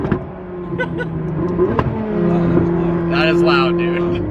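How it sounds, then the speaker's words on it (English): A McLaren 600LT's exhaust backfires over a steady engine drone, with a few sharp pops and crackles standing out close by. "The backfires in this car get me every single time."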